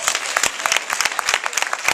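Dense crowd applause after testimonies at a business event, many hands clapping loudly and close for the whole stretch, with no talk on top.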